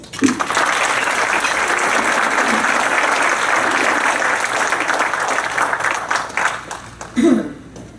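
An audience at a public safety appreciation awards ceremony in Bowie applauds to welcome a volunteer fire chief. The clapping is loud and sustained for several seconds, then fades, with a brief voice near the end.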